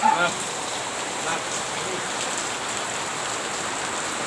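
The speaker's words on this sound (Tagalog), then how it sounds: "Umuulan, ah." Steady heavy rain hisses across the whole clip, a dense even wash of drops on a surface, with a brief voice at the start.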